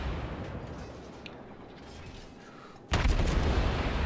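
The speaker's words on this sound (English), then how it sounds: "it can put out a really good amount of firepower just out of the forward guns" Naval gunfire from the Russian cruiser Svietlana in World of Warships: a quiet rumbling stretch, then a sudden loud broadband blast of a salvo about three seconds in that keeps roaring to the end.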